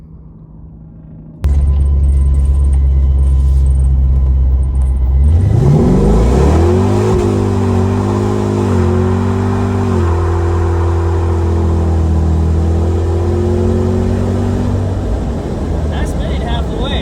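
A Cutlass with a Gen V engine conversion driving, its loud deep rumble steady at first, then revving up and shifting through rising and falling engine tones, close and continuous.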